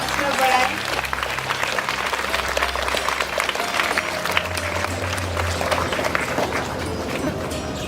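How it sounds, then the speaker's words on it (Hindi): Loud, dense applause from a large audience at a school Independence Day event, continuous clapping filling the space for several seconds with a crowd murmur and voices mixed in. "जोरदार तालियों से उनका हौसला बढ़ाएं।"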